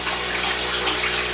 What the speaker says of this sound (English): That's a good bit of water coming through there. That's that pump I bought the other day.